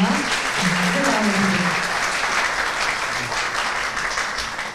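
Sustained applause from a large crowd at a hospital's 25th anniversary celebration, steady and dense throughout, with a few voices faintly audible underneath.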